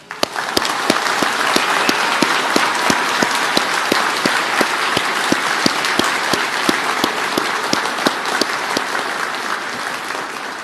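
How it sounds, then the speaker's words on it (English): Loud, sustained applause from a large audience at a U.S. Army retirement ceremony, honoring Army families. Steady dense clapping with sharp individual claps standing out runs the full length without voices. "And I would ask that everyone here please join me with a round of applause"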